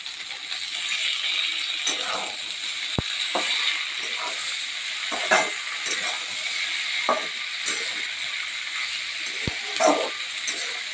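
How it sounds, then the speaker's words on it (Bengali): Potatoes, chopped onion and green chilli frying in oil without water, a continuous hissing sizzle with occasional stirring scrapes and a couple of sharp clicks, steady and close. "এবার দেব কাঁচা লঙ্কা, পেঁয়াজ কুচি দিয়ে দেবো। আলুগুলো কেটে রেখেছি, আলুগুলো দিয়ে দেবো।"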